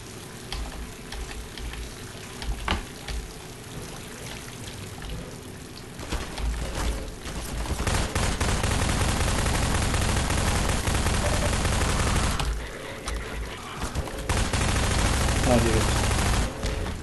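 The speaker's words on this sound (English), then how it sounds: "Pulse cannon will do the job a little bit quicker." A pulse cannon firing in the video game Elevator Ville: a sustained, dense crackling barrage of rapid shots that grows louder partway through and keeps going, with a person talking over it.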